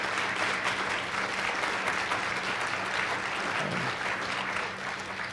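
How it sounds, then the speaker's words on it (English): Steady round of applause from an audience at a community breakfast event, full and continuous before tapering slightly at the end, with a faint voice underneath. "let's give another round of applause for our Superintendent"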